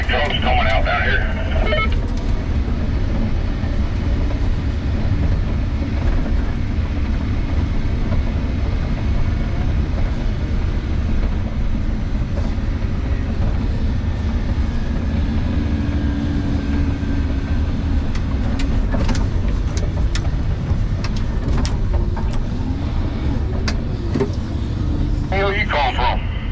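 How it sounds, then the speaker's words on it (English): Big off-road trucks driving along a highway give a steady, loud low engine and road rumble that runs the whole way through, with people talking over it. "there's big trucks coming out down here"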